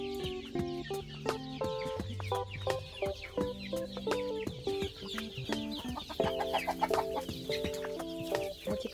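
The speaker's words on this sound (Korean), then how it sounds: "여기는 중병 중병아리들 중간병아리 여기는 애기 여기는 애기 병아리들" Chickens, from medium-sized chicks to baby chicks, cluck and chirp steadily in a coop, a busy overlapping chorus of short calls near and far with no voices.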